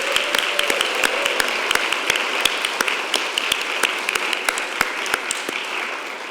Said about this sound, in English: I would love to offer a round of applause very gratefully to Robbie Evans